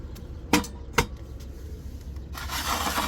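A wooden porch part is pulled free, giving two sharp knocks followed by a longer rough wood scraping, close and moderately loud with no talk.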